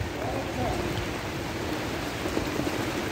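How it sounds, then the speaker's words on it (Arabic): Heavy rain pours continuously as a dense, steady hiss on surfaces, fairly loud and unbroken throughout. "الشتا راها كتنزل"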